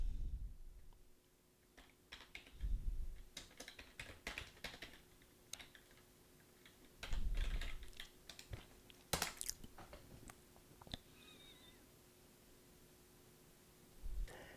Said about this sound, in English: Now you can just type Jupyter Notebook inside